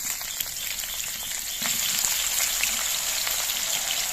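Eggplant pieces fry in a wok of oil left over from frying fish, making a close, continuous sizzle with scattered pops that grows slightly louder partway through.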